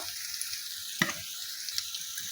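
Spices being stirred into spiny gourd (kankoda) curry frying in a pan, a steady soft sizzle with a few scraping stirs, near and quiet, no talking.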